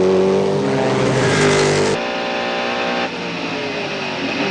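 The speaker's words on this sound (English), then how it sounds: "Bouchut leaves the pits." A Mercedes CLR race car at Le Mans in 1999 roars loudly as it pulls out of the pits, its engine revving up through the gears with sharp shifts, close and intense throughout.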